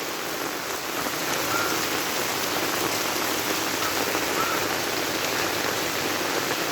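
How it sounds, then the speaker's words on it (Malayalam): Heavy rain pours down steadily outdoors, a dense, even hiss of drops drumming on surfaces and running water, loud and unbroken throughout with no voices. "അപ്പോൾ ഇതാണ് മഴ കേട്ടോ."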